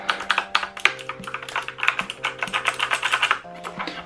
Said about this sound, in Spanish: pues este es el sonido de las teclas